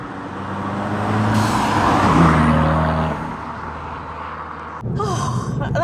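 A modified 230bhp Abarth car engine revs loudly and steadily for a few seconds, its drone rising and then falling away, before a short, sharp throttle blip bursts out near the end.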